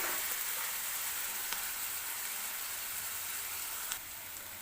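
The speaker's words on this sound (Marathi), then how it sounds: "कांदा आणि शिमला मिरची व्यवस्थित भाजून घ्यायची आहे, अगदी मऊ होईपर्यंत" Onion and capsicum frying in a pan for pav bhaji, giving a soft, steady sizzle with a couple of faint clicks and no voices.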